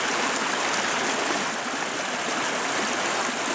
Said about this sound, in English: So I think this might be Deception Creek